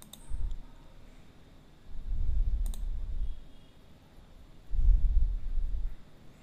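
A computer mouse gives a couple of sharp, brief clicks on a website, set among dull low thumps of handling noise, with no talk.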